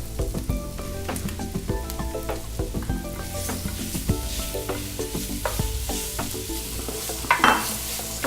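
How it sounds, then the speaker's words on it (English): Shrimp sizzle loudly in a pan with onions and toasted cumin for a Moroccan seafood dish. A utensil stirs them around, adding scrapes and light taps over the continuous close frying hiss, and no one speaks. "Just going to give them a quick little stir around the pan."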